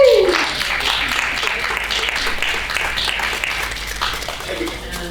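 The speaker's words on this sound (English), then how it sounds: "give Aya a round of applause" An audience at a COP climate conference event bursts into applause as the microphone is handed over. The clapping is loud at first and stays steady for several seconds, with a voice speaking briefly at the start.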